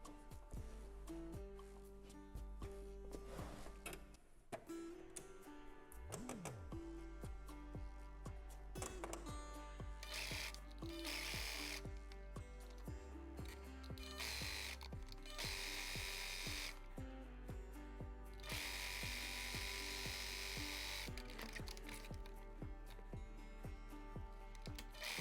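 A sewing machine stitches stretchy elastic fabric in bursts of rapid mechanical whirring, running and pausing repeatedly, close and steady, with no talking.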